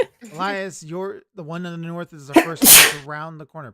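A single loud, sharp sneeze bursts out near the end amid ongoing conversation between people around a tabletop role-playing game.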